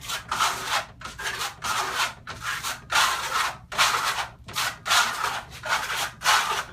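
A trowel spreads a second coat of fine marmorino grassello plaster, a series of about a dozen short scraping swipes in a steady back-and-forth rhythm, close and clear with no talk.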